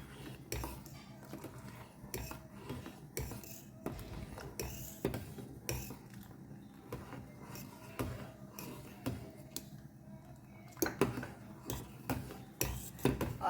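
Custard mixture being stirred into a dessert in a home kitchen, giving repeated clinks and scrapes of a utensil against a bowl or pan, fairly close, in an irregular rhythm with no voice over it.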